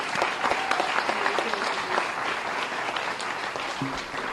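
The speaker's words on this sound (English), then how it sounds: "Give them a round of applause." Steady applause from a crowd at a board meeting, a dense patter of clapping that holds throughout with a faint voice underneath.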